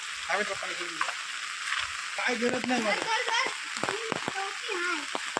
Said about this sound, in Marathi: मस्तपैकी पाऊस पडतोय.